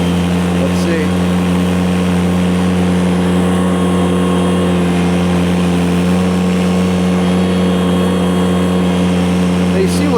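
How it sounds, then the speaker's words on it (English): A snowblower engine runs while clearing frozen pavement, making a loud, steady, close drone with a constant pitch through the whole stretch. "So I think we're gonna hook up the snowblower because that is just so much fun."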